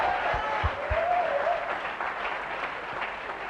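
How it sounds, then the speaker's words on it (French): Audience applause at a leadership talk, moderate clapping from a crowd that carries steadily through the short moment, with a voice briefly audible over it at the start. "On applaudit."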